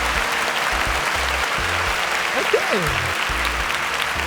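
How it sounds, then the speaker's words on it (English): Applause at a singing competition show, a steady wash of clapping from an audience that runs throughout, with a brief spoken word over it. "a round of applause for that"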